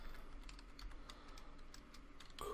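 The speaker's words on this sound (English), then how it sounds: "If I type in the right stuff." Quick keystrokes tapped out on a computer keyboard while searching for car parts, a soft close clatter of several rapid presses over low room noise, faint and without voices.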